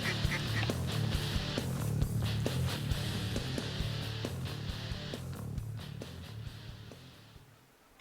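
Several ducks quack repeatedly in a loose, overlapping chorus over a motorized decoy in a field, moderately loud and steady, fading out near the end.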